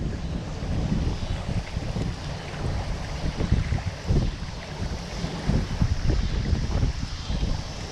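Wind gusts steadily across the Mississippi River, buffeting the microphone with a continuous low rumble and rushing noise, loud and unbroken throughout.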